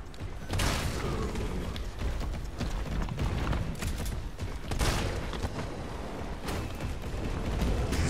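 Rapid bursts of Resident Evil 3 gunfire at zombies crackle repeatedly over a noisy, busy background, some shots sharper and louder than others.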